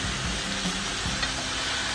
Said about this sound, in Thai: ซีอิ๊วขาวกับน้ำตาล ไปโดนกับกระทะนะคะเขาก็จะมีความไหม้เป็นคาราเมลนิดหน่อยค่ะ